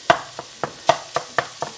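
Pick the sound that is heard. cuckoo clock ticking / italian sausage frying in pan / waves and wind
italian sausage frying in pan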